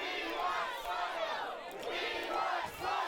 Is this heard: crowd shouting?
yes